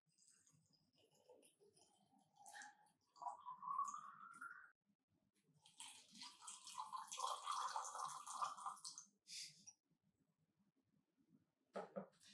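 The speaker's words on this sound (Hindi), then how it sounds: "और इसमें हम पानी भी डाल सकते हैं।" Water poured into a balloon stretched inside a flask, heard as wet trickling, dripping and gurgling with a few clicks and clinks, coming in separate bursts with quiet gaps between them.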